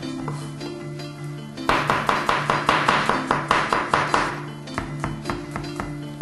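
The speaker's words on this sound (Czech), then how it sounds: "Nakrájím česnek." A knife chops garlic cloves into thin slices on a cutting board, giving a steady run of crisp, evenly spaced taps that stop and start again, close and clear in a home kitchen.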